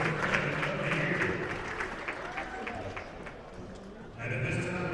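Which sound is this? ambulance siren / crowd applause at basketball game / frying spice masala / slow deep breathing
crowd applause at basketball game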